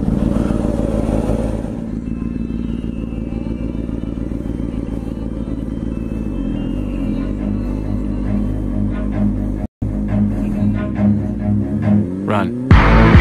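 Motorcycles rumble loudly and steadily with throbbing engine revs and some clatter, close to the microphone, continuing for about thirteen seconds with a brief cut near the end.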